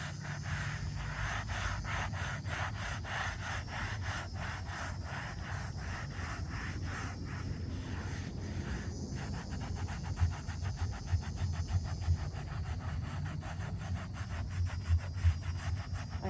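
A headstone in a cemetery is scrubbed with steady, rhythmic back-and-forth rubbing strokes, faint and close, continuing for the whole stretch with a few louder scrapes toward the end.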